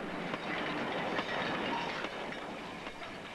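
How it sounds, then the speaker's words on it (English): A train rolling over rails, sleepers, chairs and fish plates, a steady loud rumble with faint rhythmic clicks running through the whole stretch, heard alone. "the rails, the chairs, and the sleepers are all being compressed by the weight of the train"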